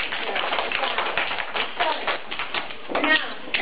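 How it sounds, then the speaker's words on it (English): Children clap together in a classroom, a dense burst of taps and claps running steadily throughout, with kids' voices chattering underneath. "Give an applause."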